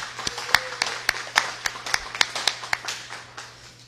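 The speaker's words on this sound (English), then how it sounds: "Yes, please give them a round of applause." Sparse clapping from a small audience at a healthcare equity legislation announcement, with roughly fifteen distinct, sharp hand claps in an uneven rhythm and a faint low hum underneath, all without talk.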